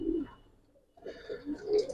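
Pigeons cooing at a Giribaz and coloring pigeon farm, soft low coos near at hand, a pause in the middle, then a fuller run of cooing with light chirpy calls over it.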